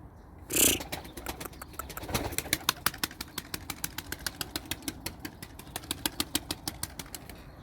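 Tumbler pigeons out for a training flight give off a long, steady train of sharp wing claps and flapping, with one louder burst near the start; no voices.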